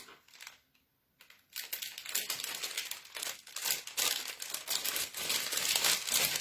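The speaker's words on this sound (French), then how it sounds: "Désolée pour le bruit de papier" Paper crinkles and rustles close by, starting softly, pausing briefly, then becoming louder and continuous with sharp crackling bursts.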